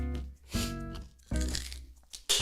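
Raw celery bitten and chewed close to the mic, giving several loud crunching bursts with quiet gaps between them.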